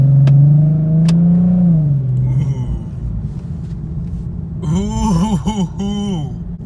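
A Nissan 370Z with a Remark axle-back exhaust revs loudly up close, a deep rising and falling drone followed by a burst of sharp throttle blips near the end.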